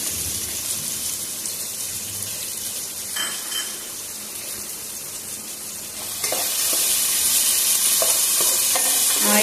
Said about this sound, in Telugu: ఆ ఉల్లిపాయలను ఆయిల్లో వేస్తున్నాను